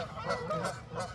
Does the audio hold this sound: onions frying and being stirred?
no